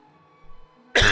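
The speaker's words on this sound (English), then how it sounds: "So sorry about all this coughing." A person gives one sharp, loud cough that bursts out suddenly after near silence and a faint low hum.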